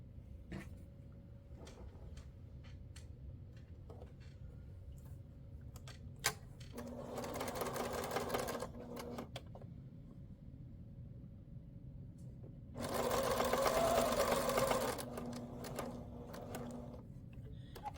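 A sewing machine stitches fabric around an inside corner of a fussy-cut frame in two short runs of fast, whirring clatter, with quiet handling and soft clicks between them.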